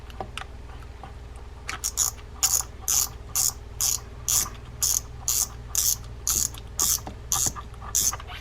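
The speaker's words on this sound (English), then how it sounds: "does the bail flip, which is what this came in for, and the bail is flipping" The bail on a Cabela's Salt Striker 50 spinning fishing reel is flipped over and over after servicing, giving a steady run of about a dozen sharp, close mechanical clicks at a regular rhythm over faint background hum.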